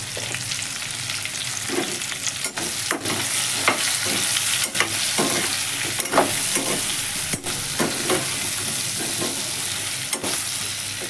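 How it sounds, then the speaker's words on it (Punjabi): Onions roasting in a pan with turmeric, salt, green chilli, red chilli and garam masala sizzle steadily while a spoon scrapes through them in repeated rhythmic strokes, close and fairly loud, with no talking. "ਇਹਨਾਂ ਸਾਰਿਆਂ ਨੂੰ ਹਲਕੇ ਹਲਕੇ ਆਂਦੇ ਤੇ ਆਪਾਂ ਭੁੰਨੀ ਜਾਣਾ ਆ"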